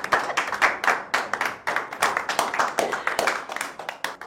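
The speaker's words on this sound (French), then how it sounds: "Est-ce que vous pouvez applaudir?" A small group claps together at a home gathering in a Cameroonian series, with quick, uneven slaps repeating steadily for several seconds at moderate loudness.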